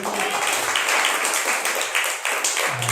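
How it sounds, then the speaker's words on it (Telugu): A church congregation at a Sunday worship service at Zion Gospel Church in Kuntloor claps loudly in praise, a dense, steady wash of many hands that fills the room for nearly three seconds before cutting off. "గట్టిగా దేవునికి ఒకసారి గట్టిగా చప్పట్లు కొట్టి దేవుని మహిమపడతాం"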